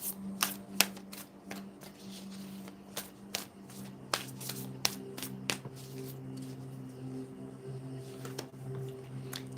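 A deck of tarot light worker cards is shuffled close up, giving a series of sharp riffling snaps and soft slides at an uneven pace over a faint background hum.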